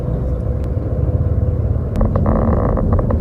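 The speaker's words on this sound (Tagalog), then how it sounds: "Ito mami yung electric car ngayon na kayo nakasakay." Steady low road rumble from inside an electric taxi crawling through traffic, a continuous engine-free drone with faint tonal hum and brief ticks, no voices.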